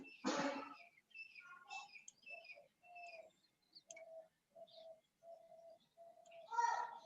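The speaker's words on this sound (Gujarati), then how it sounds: "કોઈકના ઘરે પક્ષીઓ આયા લાગે છે." Birds coo in a run of soft, repeated low notes between brighter chirps and tweets, with a louder flurry at the start and end and no talking.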